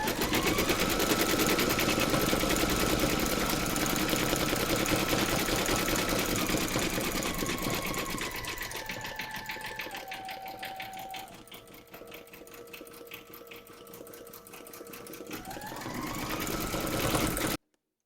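An embroidery machine stitches a teddy's eyes in blue thread, running as a steady rapid mechanical chatter that eases and slows partway through before picking back up to full speed, with no voices.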